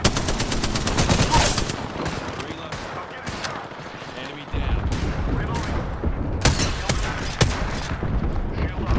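Rapid bursts of automatic gunfire in the battle royale video game Apex Legends, loud sharp shots in quick volleys with a brief lull mid-way, overlaid with game voice callouts.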